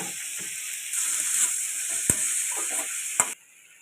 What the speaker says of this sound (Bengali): এর মধ্যে এবার টমেটো কুচি দিয়ে দিলাম